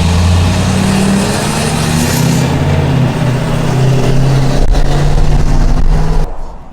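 A big pickup truck with a performance tune accelerates hard on a test ride, its engine revving loudly and dropping in pitch at each firm gear shift, a steady close drone that cuts off abruptly at the end.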